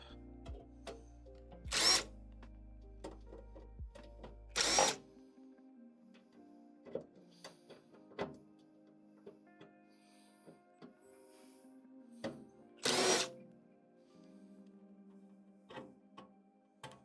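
Bursts of a power drill backing screws out, several short whirs spaced apart between quiet stretches of small clicks and handling noises, near and fairly quiet, no talk.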